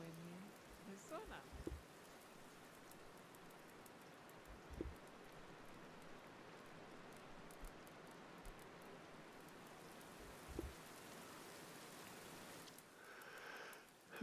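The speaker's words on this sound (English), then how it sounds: "the rain in this game is harsh to my ears" Rain falling in the survival video game Sapiens, a steady soft hiss of drops spread evenly throughout, with a few brief low thumps and light rustles on top and no talking.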